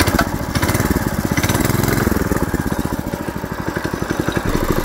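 Small stationary engine fitted to a home-built bicycle revs hard and loud with a rapid, steady putter, like a lawn mower, holding high revs as the bike accelerates down a rough straight road.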